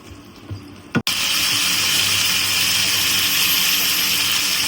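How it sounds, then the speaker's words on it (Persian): Verjuice, a sour grape juice, pours from a container into a cooking pan for Shirazi cabbage rice with meat, a steady loud liquid stream starting after a brief clatter and running continuously, with no talking. "الان چاشنی اصلیش که آب قوره هستم بهش اضافه میکنیم"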